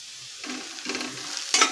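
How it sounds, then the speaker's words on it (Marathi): Peanuts and turmeric sauté in a pan for poha, a soft sizzle broken by several quick stirring scrapes and a sharper clatter at the end. No voices. "हळद ही 1 मिनिट परतून घ्यायची आहे।"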